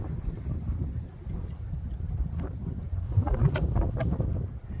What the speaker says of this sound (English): the wind is kicked up and I don't like what it's doing